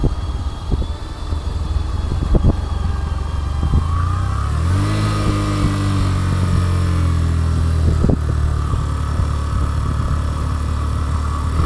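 Motorbike ridden along a forest road in Bandarban, its engine droning steadily and loud up close, rising and falling as it slows for speed breakers and picks up again, with no talk.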